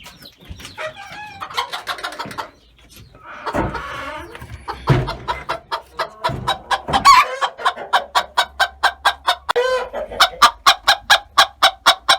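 Chickens cluck in quick rhythmic bursts, with a rooster crowing partway through; close and lively, no talking.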